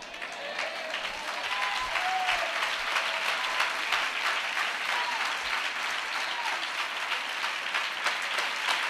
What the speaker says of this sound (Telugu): వెనకాళ్ళు కొడుతున్నారా చప్పట్లు?